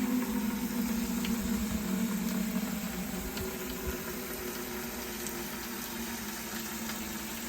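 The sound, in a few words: dark water flowing out of bioretention into bucket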